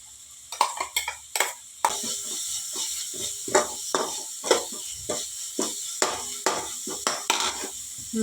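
A spoon stirs ginger garlic paste as it fries in a pan, giving repeated sharp scraping clacks in an uneven rhythm over a steady close sizzle.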